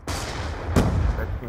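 A claymore mine going off in Black Ops 2 on the Slums map: a sharp, loud blast cracks in mid-clip over a rumbling background of gunfire, with the boom decaying afterward.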